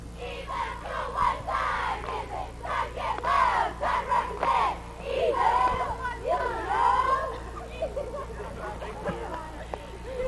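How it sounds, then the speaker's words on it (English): High school cheerleaders from Edwardsville shout a cheer at a 2001 state championship football game, loud rhythmic chanted voices in unison, close and lively, with crowd ambience beneath. "You're going to give us a cheer right now, your favorite cheer?"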